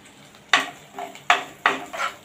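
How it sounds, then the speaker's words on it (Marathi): Turmeric and Kashmiri red chili are stirred in hot oil for butter chicken, with a spatula scraping the pan in four close, rhythmic strokes over a faint sizzle. "आता हे आपण चांगलं परतून घेऊया तेलामध्ये."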